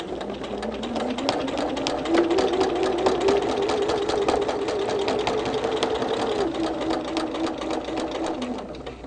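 A sewing machine machine-quilting a Christmas tree quilt runs steadily and close, its rapid needle chatter and motor whine holding a constant pitch for several seconds before easing down at the end.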